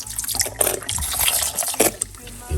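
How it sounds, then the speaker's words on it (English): Malt vinegar pours into a container with a continuous splashing, trickling flow that rises and falls in a few uneven surges, close by and fairly loud. "Inside of it, put a little bit of vinegar."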